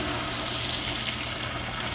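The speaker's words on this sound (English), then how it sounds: "Turn on a regular water hose in here" A regular garden hose runs at full flow into a marine air-conditioning system for a freshwater flush, making a steady, dense rush of water that stays constant and close, with no voices.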